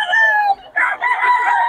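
An SBR Bloodline gamefowl rooster crows loudly and close, one strained call with a short break before a rising, sustained second part.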